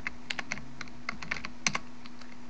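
Keystrokes on a computer keyboard entering a command in a HyperConomy game setup, a quick irregular run of light clicks, close and fairly quiet, with no talking.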